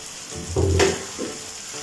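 Egg noodles being stirred and fried in a pan with vegetables and chili sauce: a soft sizzle with a brief louder scrape of tossing near the middle, no talking.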